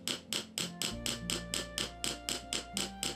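A slightly larger metal hammer strikes an iron sword guard to drive gold wire inlay into its wood-grain pattern, Higo inlay work: about ten crisp, evenly spaced ringing taps at a steady rhythm, close and clear.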